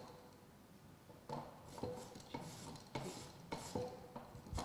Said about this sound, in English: So all you have to do is just grate the potato.